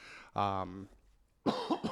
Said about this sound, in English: Here's my fucking phantom cough as soon as I start talking